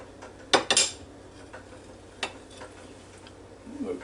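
A knife slices through a boiled store-bought egg, giving a few sharp close clicks and scrapes against a hard surface, with quieter taps after and faint background noise.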